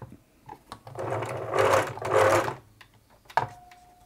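A 1980s Singer Futura sewing machine runs in two short bursts of rapid, steady stitching, close and fairly loud, with a few clicks and knocks from handling before and after.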